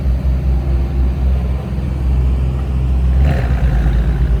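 A sports car fitted with an Akrapovic exhaust arrives on a Monaco street, its deep engine rumble loud and steady, swelling slightly near the end as it drives close by.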